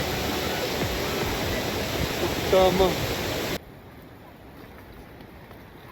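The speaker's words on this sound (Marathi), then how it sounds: "धबधब्यांचा महासागर" Rushing water from waterfalls in the Andharban jungle roars as a steady, loud wash of noise with a brief voice over it, then cuts off abruptly to a much quieter background.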